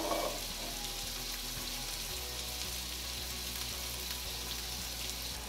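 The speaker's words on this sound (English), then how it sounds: "we're gonna take our sablefish and place it flesh down, just like we do with salmon" Sablefish (black cod) placed flesh-down in a hot pan sizzles steadily, a soft continuous frying hiss with faint crackles throughout and no talking.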